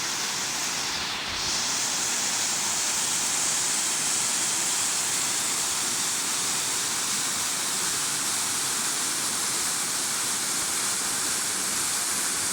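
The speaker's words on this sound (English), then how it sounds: "So this is that waterfall" A waterfall on a hiking trail roars in a steady, dense wash of rushing water, loud and constant throughout with no voices.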